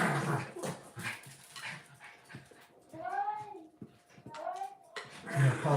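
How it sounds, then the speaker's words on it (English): Dogs whine and yelp in high, wavering cries with a few sharp barks, fairly close, mixed with indistinct voices in the room. "I hear my dogs in the background."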